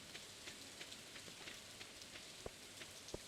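Rain in the video game Stardew Valley, a steady soft patter of drops falling evenly with a few sharper individual drips standing out, quiet and continuous.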